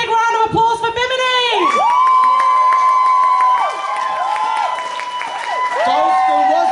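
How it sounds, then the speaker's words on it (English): A crowd at an anti-racism street rally in Dalston cheers loudly, with long rising whoops and shouts close by and some clapping mixed in. "So I want to give everyone a big round of applause for Bimini!"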